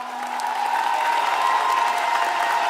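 Applause at an airport centennial kickoff celebration honoring the staff, a steady wash of crowd clapping, even and moderately loud, with a sustained tone running beneath it.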